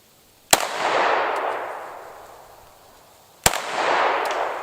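Two sharp, loud pistol shots ring out about three seconds apart at an outdoor range, fired from an affordable carry pistol at a small swinging target, each crack followed by a long, fading echo.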